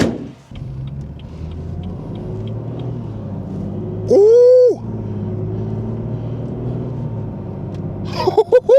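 A BMW 440i fitted with an MST intake idles with a low rumble, then accelerates briefly with a rising engine note and a whistling spool before settling back. A voice exclaims briefly near the end.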